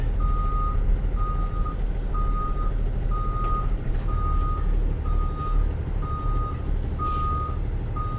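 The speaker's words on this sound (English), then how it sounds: "we're gonna back the bus back up" A school bus backing up sounds its reversing alarm, nine evenly spaced beeps about once per second over a steady, loud rumble of the idling engine.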